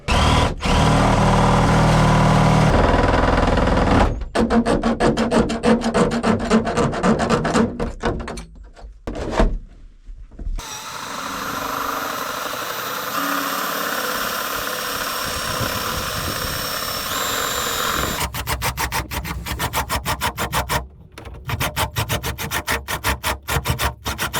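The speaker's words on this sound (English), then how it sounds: "So I'm gonna have to drill it and then cut out." A power tool runs loudly in long bursts, drilling and then cutting out a hole during an RV shower modification, with a harsh buzzing whine, pausing briefly between passes.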